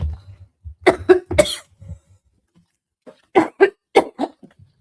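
A person coughs in two harsh bursts, several rough coughs each, separated by a short quiet pause, close to the microphone.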